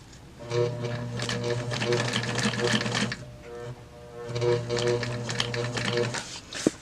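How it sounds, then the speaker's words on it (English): A sewing machine stitches a large tarp in two steady, humming bursts of several seconds each, with a brief pause between them. It runs loud and close. "So I'm going to go ahead and sew this side first, make my bulge in it, or loop, and then sew the other side."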